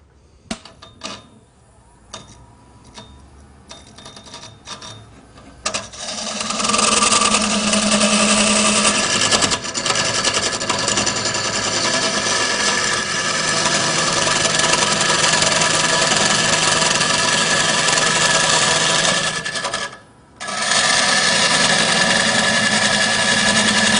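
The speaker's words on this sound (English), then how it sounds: "I'll get back to hollowing." Wood is hollowed on a lathe in a workshop: a few scattered knocks, then a loud, continuous grinding whir as the tool cuts, briefly dropping off near the end before resuming.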